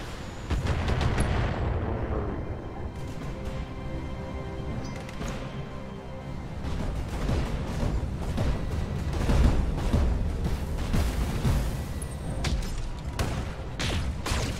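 Mech weapons in the Battletech game fire repeatedly, with sharp cracking bursts and heavy booms over a steady mechanical rumble, sustained and loud, with no talking.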